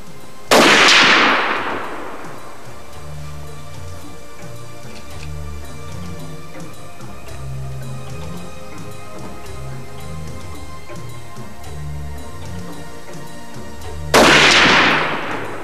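Two spaced rifle shots crack during sighting-in at a range, one near the start and one about fourteen seconds later, each loud and sharp with a fading echo and quiet between.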